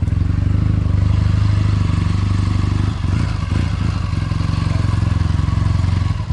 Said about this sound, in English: Absolutely the finest running vintage Bonneville I've ever ridden on.